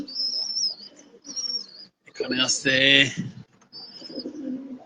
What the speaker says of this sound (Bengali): এখন আমার বাসায় কবুতর আছে